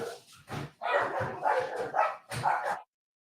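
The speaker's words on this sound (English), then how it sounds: "y'all heard the dogs going stupid crazy" A dog barks several times in a quick, excited burst, close and fairly loud, then stops.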